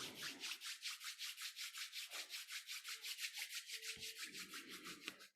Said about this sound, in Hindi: अब हथेलियों को आपस में रब कर लीजिए